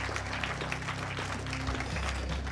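Crowd applause at a French housing and territories awards ceremony as a company president joins the stage, dense clapping over a low steady background hum and music-like tones, with faint voices mixed in.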